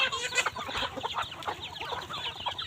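Chickens clucking at a Thai village market, a continuous busy chorus of short clucks and calls at moderate distance with background bustle.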